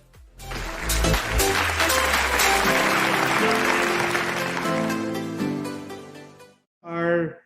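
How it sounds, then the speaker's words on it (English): At a virtual knowledge exchange conference, a round of applause greets an engineer and tech center manager, a dense burst of clapping with a music-like tonal bed that swells, holds, then cuts off before a short voice-like snippet. "A round of applause, please, to Engineer Romarico M. Cabellon."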